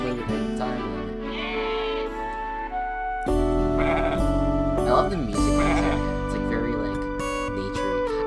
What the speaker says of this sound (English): all these sheep are loose, so we actually have to get them inside